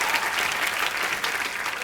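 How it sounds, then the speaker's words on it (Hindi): A studio audience at a comedy talk show claps loudly and steadily, a dense, continuous burst of applause filling the whole moment with no voices over it. "यामी के लिए भी जोरदार तालियां"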